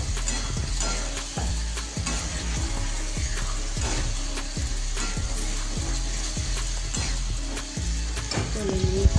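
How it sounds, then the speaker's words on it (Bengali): Spice masala for moong dal khichuri frying in oil in a pan, a steady loud sizzle with repeated rhythmic scrapes of a stirring spoon, close and continuous. "কষিয়ে নিচ্ছি যে আমার মশলাটা ভালোভাবে কষানো হয়ে গেছে"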